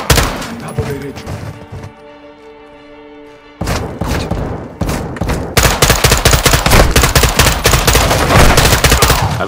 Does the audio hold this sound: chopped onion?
no